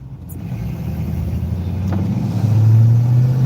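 A rough, junky truck engine runs steadily, its low rumble building and growing louder toward the end, heard alone without talk.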